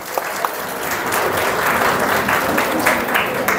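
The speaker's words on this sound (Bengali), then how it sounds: "তাদের জন্য বড় করে একটা হাততালি।" A hall audience at a botany department freshers' welcome and farewell ceremony applauds teachers and alumni: loud, continuous, full clapping throughout, with a couple of sharp isolated claps at the start.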